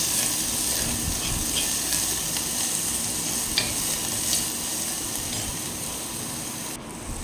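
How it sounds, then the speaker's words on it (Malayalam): Crushed shallots sautéing in a small pan for a Kerala okra tamarind curry, a continuous close sizzle with occasional light stirring clicks and scrapes, ending in a sharp knock. "ചെറിയ ഉള്ളി നന്നായിട്ട് ചതയ്ക്കുക, നന്നായിട്ട് വഴറ്റിയെടുക്കുക."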